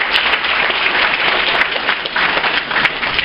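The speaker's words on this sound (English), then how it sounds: "So a round of applause to each and every one of you" Audience applause at a Clay County chamber of commerce lunch, a steady, dense burst of clapping from a roomful of people throughout, with no talking.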